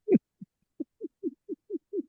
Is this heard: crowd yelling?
no